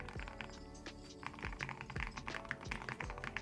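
Typing on a customized mechanical keyboard with a deep, thocky sound: a fast, irregular run of close, soft clacks and low thuds, with no speech.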